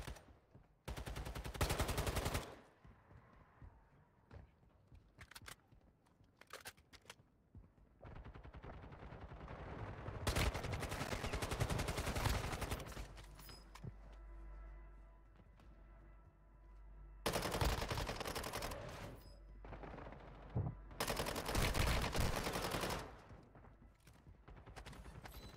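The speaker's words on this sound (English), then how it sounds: "Is that my teammate shooting at me?" Gunfire from a teammate in Warzone Mobile comes in several loud bursts of rapid automatic fire, separated by quieter gaps full of scattered single shots and rumble, with no talking.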